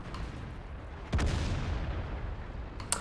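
A single heavy tank cannon shot booms out in a World of Tanks-style battle on Siegfried Line, followed by a rumbling tail and a sharper crack near the end, set over a quiet background.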